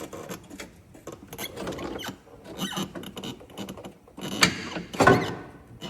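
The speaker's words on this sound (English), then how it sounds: "Now I think we should be able to work our prop shaft free." Prop shaft being worked loose on a Polaris RZR XP1000 makes a scattered series of metallic clunks, knocks and scrapes, close by and irregular, with two louder thumps near the end.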